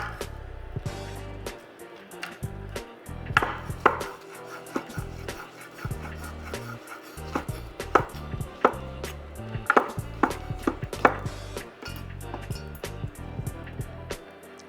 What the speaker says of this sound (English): let's go ahead and get the rest of these chopped up